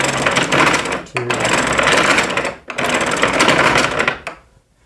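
Hand crank turning a homemade mechanical calculator, giving a busy whirring, clattering mechanical run in three bursts separated by short pauses, loud and close, fading out at the end.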